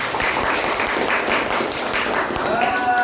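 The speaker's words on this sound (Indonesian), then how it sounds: "Tepuk tangan buat kita semua." A classroom of students claps together in a steady, continuous patter, with faint voices and a brief whistle-like tone near the end.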